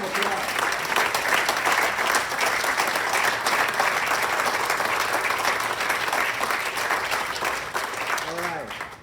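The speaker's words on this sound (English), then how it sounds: "One more round of applause" A large audience applauds newly inducted Hall of Fame members at an induction ceremony, with sustained, steady clapping that fills the whole stretch, a voice briefly audible near the end.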